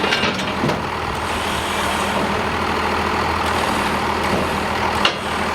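A crane works to lift a 1,000-pound diesel engine being fitted to a 1941 Dodge Power Wagon, giving off a constant loud mechanical rumble and hum with a few faint clanks.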